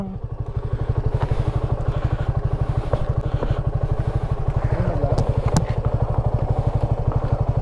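A motorcycle with a bent exhaust pipe idles loud and close, its heavy rapid thumping firing pulses steady throughout with occasional clatter, no talk over it.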